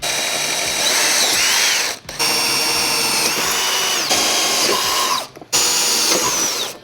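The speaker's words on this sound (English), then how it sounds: "so that we can finish drilling our holes without accidentally moving this or nicking it" A power drill whirs loudly in sustained bursts, drilling pilot holes in the frame of a 2015 Chevrolet Corvette for a trailer hitch, briefly stopping twice before spinning up again, close by with no talking.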